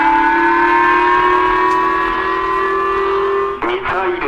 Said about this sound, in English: You can hear the siren blaring